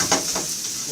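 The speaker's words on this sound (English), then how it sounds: "as the onions are sauteing" Chopped onions sautéing in a hot pan for matzo brei, giving a steady close sizzle with a brief stirring scrape near the start and no talking.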